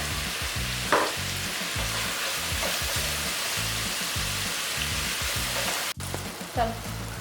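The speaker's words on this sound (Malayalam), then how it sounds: "ഉള്ളി വഴറ്റുക. അതിലേക്ക് കുറച്ച് ഉപ്പ്, ഇപ്പോഴാവശ്യത്തിനുള്ള ഉപ്പ് ചേർക്കുക, ഉള്ളി ഒന്ന് വഴന്ന് കിട്ടാൻ വേണ്ടിയിട്ട്." Onions sautéing with salt in a pan for a beef roast, making a continuous broad sizzle close up, with a couple of sharp stirring clicks and a low rhythmic pulse running underneath.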